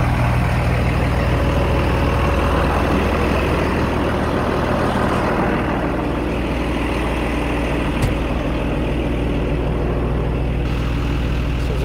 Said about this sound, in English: Engine's pretty noisy.